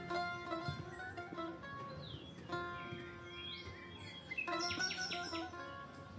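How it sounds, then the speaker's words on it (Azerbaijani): Birds sing in a steady stream of chirps and whistled phrases throughout, fairly close and clear over a sustained tonal background hum. "Quşların cəhcəhi."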